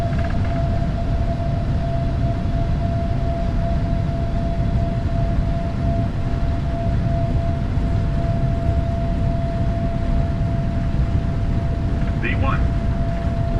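Jet engines of a PMDG 777-300ER at takeoff power in Microsoft Flight Simulator, a loud, steady roar with a constant whine that runs through the whole stretch, without talk.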